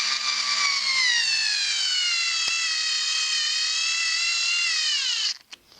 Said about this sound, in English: We're going to do it with a short 3/4 to 1 inch screw first.